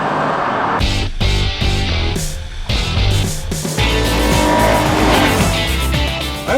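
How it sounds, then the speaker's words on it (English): VW Atlas SUV with a 2.0-liter turbo engine launching hard in a drag race against an Audi Q7 and Acura MDX, loud engine roar with tire squeal and strong accelerating vehicle noise, no talk. "Good off-the-line power. Good takeoff from the Atlas."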